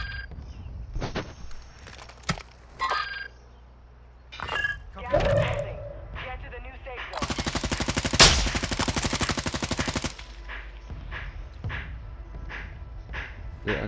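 Gunfire in Call of Duty: Modern Warfare II: a few scattered shots give way to a loud, rapid automatic burst lasting several seconds, with more sporadic shots afterward, while a player talks over much of it.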